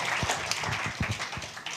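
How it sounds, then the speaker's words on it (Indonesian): A church congregation claps together in a brief burst of dense, close applause. "tolong berikan tepuk tangan sekuat yang Bapak Ibu bisa beri kepada Tuhan"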